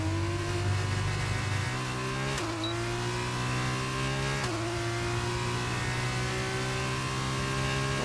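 Formula 1 car engine in F1 22 whining at high revs, loud and close, rising through gears with two sharp upshifts, no talk over it.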